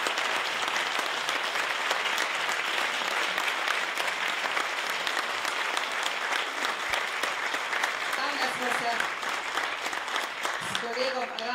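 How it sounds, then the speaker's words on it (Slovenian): An audience at an evening concert of a vocal group claps in sustained, fairly strong applause; near the end a voice begins speaking over the fading clapping. "lahko damo še en velik, velik aplavz"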